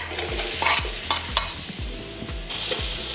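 A spoon stirs onion and other ingredients together in a pan, giving repeated scraping strokes about twice a second over a soft sizzle, close up, with no speech.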